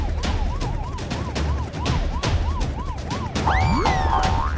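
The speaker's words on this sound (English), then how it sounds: "they heard the sound of police sirens" Rapid warbling police sirens in a children's cartoon whoop repeatedly over a loud rumble, with a second siren swooping in near the end amid clattering noise.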